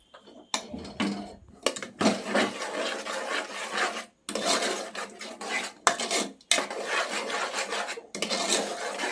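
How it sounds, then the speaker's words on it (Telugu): A spoon stirs green pea curry in a pan on the stove over medium flame, making steady rasping, scraping strokes in bursts separated by brief pauses, close up and moderately loud with no talking. "స్టవ్ వెలిగించేసుకొని మీడియం ఫ్లేమ్ పైన ఒక రెండు నిమిషాలు ఇలాగే రెండుసార్లు కలుపుకుంటూ"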